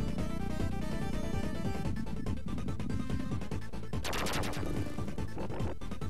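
In the Ristar video game, a boss fires shooting claws in a burst of rapid, gunfire-like blasts and crashes mixed with busy game music, loud and continuous, with no talk.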